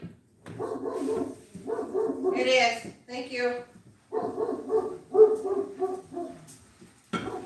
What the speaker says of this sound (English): now he's barking because our neighbor's coming